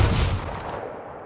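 Gunfire in the Free Fire video game, a dense burst of loud, rapid shots. It starts strong and tapers slightly over a brief moment, with no voices.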